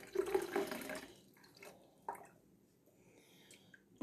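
Homemade ödem tea with parsley being strained and poured into a bottle, a short burst of trickling liquid followed by quieter splashes and drips, close and alone without talking.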